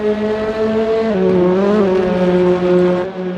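TCR touring race cars racing at Donington Park, with a loud, close engine note that holds, dips and climbs again through gear changes, alone with no commentary.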